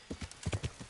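Horse hooves clip-clop in quick, even steps in a video game, the horse Shadowmere trotting close and clear for under a second with no talk over it.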